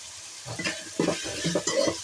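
Turmeric being stirred into an okra curry in a pan, with a low sizzle underneath and a few soft, scraping strokes coming close together near the pan.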